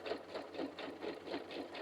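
A sewing machine back stitching fabric runs in a quick, even mechanical chatter, close and fairly quiet, with no voices over it.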